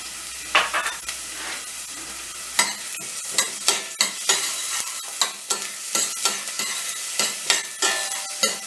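Steady sizzling of chopped onions frying in hot oil for bulgur pilaf, with rhythmic scraping and stirring clicks from a utensil throughout.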